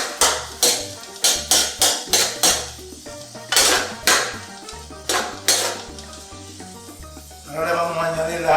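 Onion goes into a pot for rice with pigeon peas, with a spoon scraping and clanking rhythmically against the metal pot over a faint sizzle, close and loud.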